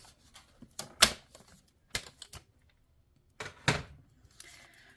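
A paper trimmer slicing a one-inch flap off cardstock for a mini box, heard as a few sharp clicks and scraping cuts spread over several seconds, close and fairly crisp with no talking.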